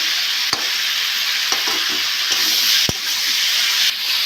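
Potatoes sautéing and being stirred in a pan for jhinge posto, a steady broad frying sizzle broken by a few sharp scraping clicks of the spoon, close and loud, with no talking.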